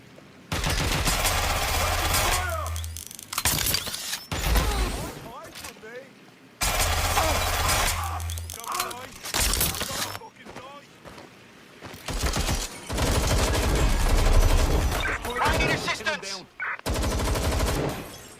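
Gunfire bursts from Watch Dogs Legion, with repeated shots and rapid machine-gun volleys coming in loud waves, separated by short gaps and game noise.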